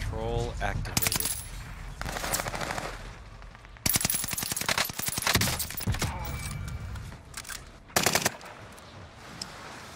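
Video game gunfire: rapid automatic bursts and single sharp shots arrive in several loud clusters over ten seconds, mixed with metallic clinks and game effects while a voice talks.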